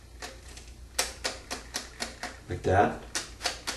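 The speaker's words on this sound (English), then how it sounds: "you'll feel and hear a definite little clicking noise" A Fluidmaster toilet fill valve gives a series of sharp, evenly spaced clicks at close range as its height is adjusted, with a brief voice speaking partway through.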